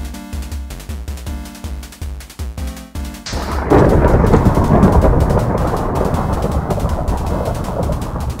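Fae lightning in Minecraft VR sets off a sudden loud thunderclap that breaks into a sustained heavy rumble like pouring rain, following rhythmic music pulses.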